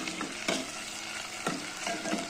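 Ground spice paste frying in oil in a pan for a dried bombil and potato curry, a steady sizzle with occasional scraping stirs of a spoon.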